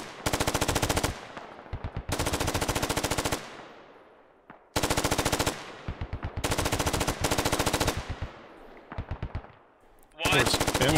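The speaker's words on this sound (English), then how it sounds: "Scrooby's just probably got a bunch of guns firing off in his ear" Automatic and rifle fire from the military shooter game Squad rattles in long, loud, rapid bursts, several of them separated by brief pauses, with shorter sporadic volleys near the end.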